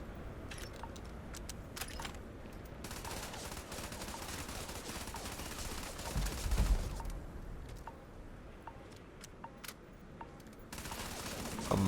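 Rapid automatic gunfire from a minigun in the video game Starfield, a dense continuous rattle of shots running throughout amid game ambience, with a louder swell partway through.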